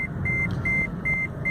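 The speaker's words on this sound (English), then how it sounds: "Sorry about the beeps, but I had to use the reverse to get out of the car wash stall." Regular high-pitched taxi reversing beeps repeating about every half second over a low rumbling engine idle, close and fairly loud, in a car wash stall.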